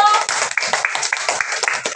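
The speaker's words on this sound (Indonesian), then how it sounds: "Beri tepuk tangan dulu dong untuk Rido" Schoolchildren in an economics micro-teaching lesson clap together for a classmate, a quick rhythmic run of sharp, close claps in a steady patterned beat, with young voices mixed in.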